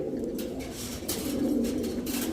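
Racing pigeons in a Bangladeshi loft give low, rolling coos that repeat steadily over a constant background hum, fairly close and with no talk.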